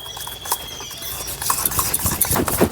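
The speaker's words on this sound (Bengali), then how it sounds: "ভালোভাবে নেড়ে দু প্যাকেট গুঁড়ো দুধ একটা পুর বানিয়ে নেবো ভালোভাবে নেড়ে" Powdered sugar and two packets of milk powder are stirred together into a sweet filling for bread roll mishti, giving close, irregular scraping and tapping strokes that grow busier toward the end, with no talking.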